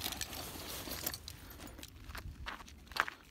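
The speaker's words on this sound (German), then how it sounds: "Okay, warte, ich hole den Schlüssel." Motorcycle keys for a BMW R1250GS jangle close by in short bursts of metallic rattling, with faint shuffling movement around them and no talking.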